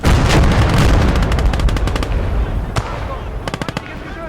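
Rapid bursts of gunfire in the World War II video game Gates of Hell, a dense loud volley at first, then scattered sharp machine-gun-like rattles tapering off.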